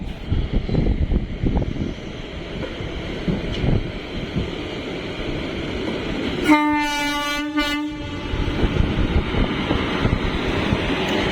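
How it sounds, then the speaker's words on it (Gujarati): A double-engine freight train carrying tank wagons rumbles past a railway station with heavy clattering and wind buffeting the microphone, and a loud horn blast cuts through midway. "આ એક ટ્રેન આવે છે આ માલગાડી છે"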